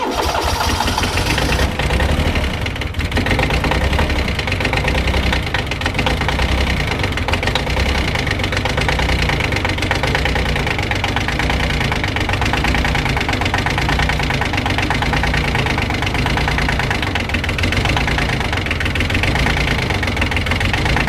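A tractor engine idles steadily just after a cold start at -2 degrees, with slightly gelled fuel. The loud, continuous diesel rumble has a knocking, uneven edge and runs unbroken throughout, with no voices.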